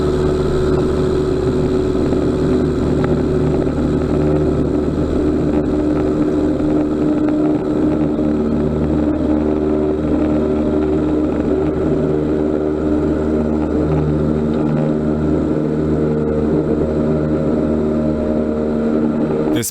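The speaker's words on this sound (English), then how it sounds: "This plane made an emergency landing on a highway, and now it has to take off." A small plane sitting on a highway after an emergency landing revs up to take off, a loud, steady engine and propeller drone with strong low harmonics that holds throughout, close by.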